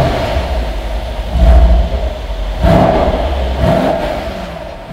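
A 2013 Mercedes-Benz SL63 AMG with a 5.5-liter engine starts and revs, loud and close, with deep surging bursts rising over a steady rumbling idle.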